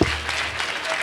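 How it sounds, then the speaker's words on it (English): Applause breaks out at a presidential campaign council unveiling event in northern Nigeria, a dense, steady wash of crowd clapping that holds at an even level through the brief moment with no speech. "let us clap for this wonderful show"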